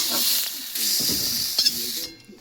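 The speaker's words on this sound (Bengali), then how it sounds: "শিমটা দেখো ভাজা ভাজা হয়ে এসছে" Flat beans fry in a pan with salt and turmeric, giving a steady loud sizzling hiss with occasional stirring clinks and scrapes, heard alone without talk.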